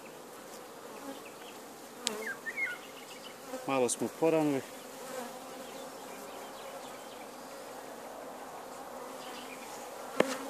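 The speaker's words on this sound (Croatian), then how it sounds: "Pčela radilica još nije uspjela dolje na teren, pa vjerovatno će biti ujeda." Steady insect buzzing of honeybees at a hive fills the background throughout, with a few brief voices and clicks partway through.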